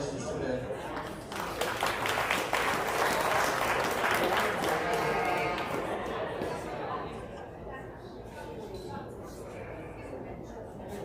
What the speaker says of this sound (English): So just give them another nice round of applause.